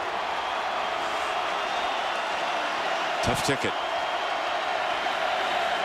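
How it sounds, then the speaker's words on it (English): A big stadium crowd roars steadily at the Texas Tech at Oklahoma college football game, a dense distant wash of cheering throughout, with a brief sharp burst of clapping or thumping midway and a commentator speaking over it. "And this crowd will not be leaving."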